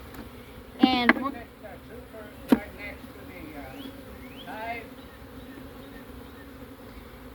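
Honey bees at an open hive during an inspection give a faint, steady buzz beneath a man's speech, along with a few sharp clicks and knocks.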